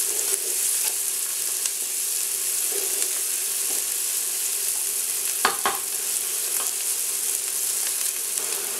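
Onions sizzle in a pan as they brown for a Greek spinach and rice dish, producing a steady hiss with no talking and a couple of brief clatters partway through.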